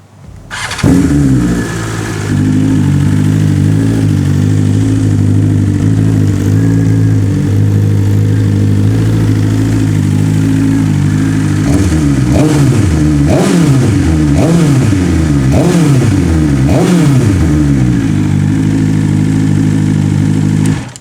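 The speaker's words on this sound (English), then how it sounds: "Let me start this bike and show you guys how it sounds on idle." BMW S1000RR sport bike with a Stage 1 tune starting up and settling into a loud, close idle, then blipped through a series of quick revs that rise and fall in rapid succession near the end.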